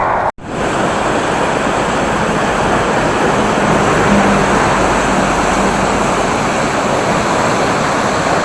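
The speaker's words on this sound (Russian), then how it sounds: "Река совсем порожистая стала." Continuous broadband roar of river rapids, loud and close, with a brief dropout near the start, in Sichuan, China.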